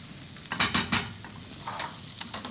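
Poaching liquid ladled into a haddock fish pie sauce over medium heat and stirred, giving a few soft splashy sizzles and scrapes in quick succession, then quieter stirring with a couple of light clinks.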